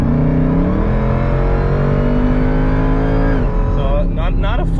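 A HEMI car engine pulls at about 80% throttle, a loud steady drone rising evenly in pitch, then dropping off near the end as the pull is released.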